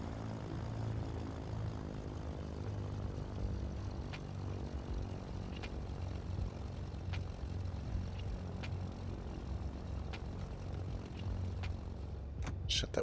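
Twin propeller engines of a small airplane drone steadily from inside the cabin, a loud, even hum with a constant pitch throughout.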